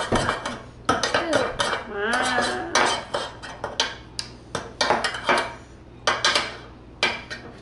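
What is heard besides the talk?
mixing colored shaving cream paint in containers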